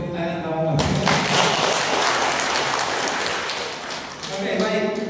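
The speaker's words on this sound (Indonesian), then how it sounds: "Beri tepuk tangan sama Bapak." A church community gathering at an Easter and renewal event bursts into applause, a dense, loud wash of clapping from a large crowd between stretches of amplified speech at the start and end.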